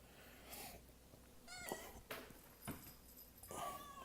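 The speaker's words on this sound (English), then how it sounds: "my cat's trying to make a cameo." A house cat lets out a few short meows and whiny calls, close and fairly quiet, spaced irregularly across a few seconds in a calm indoor room.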